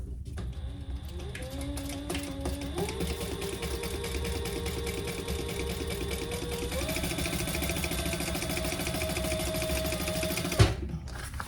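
A sewing machine top stitches a unisex crossbody bag, its motor whining steadily and close for the whole stretch, the pitch stepping up slightly partway through, with a single sharp click near the end.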